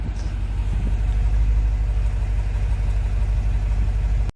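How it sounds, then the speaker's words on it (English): A Jeep SRT Grand Cherokee's exhaust rumbles steadily at idle, a deep, close, continuous burble heard alone that cuts off abruptly at the end. "let's just listen to the exhaust here for a little bit"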